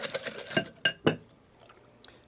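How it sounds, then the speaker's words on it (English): Egg yolks whisked with sugar in a bowl, a quick run of clinking metal-on-bowl strokes followed by a few heavier knocks and scattered faint taps. "I'm going to whip up these egg yolks with some sugar"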